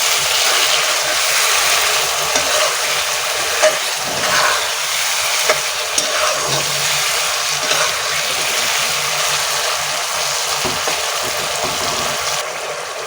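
Potato pieces frying in oil in a pan while pangasius fish is being cooked; a steady, dense sizzle and crackle holds throughout with small clinks, no talking.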